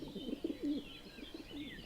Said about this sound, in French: Et mon pigeon roucoulait d'enchantement.